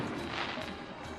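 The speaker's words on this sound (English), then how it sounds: "Little fireworks show here tonight as the Owls make it onto the field." Fireworks go off at a high school football game as the home team takes the field under night lights, a loud, continuous crackling and booming wash heard from a distance across the stadium.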